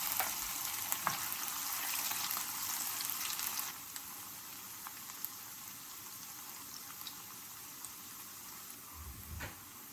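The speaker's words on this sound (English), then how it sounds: "Once the oil is hot enough, you can start cooking your tempeh until it is golden brown." Tempeh frying in about half a cup of hot cooking oil, giving a steady, close sizzle and crackle that holds throughout, easing slightly partway, with a small clatter near the end and no voices.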